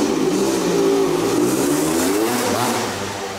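A 1984 Honda CR250R Red Rocket two-stroke motocross bike with a full DG pipe and silencer revs up loudly and close, a raspy rising engine note that holds and then eases off.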